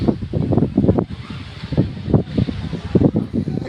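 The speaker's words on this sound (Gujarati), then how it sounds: "આજ તો પવન મસ્ત હે" Strong wind blows in gusts, buffeting and roaring in uneven surges that rise and fall every second or so, close and fairly loud.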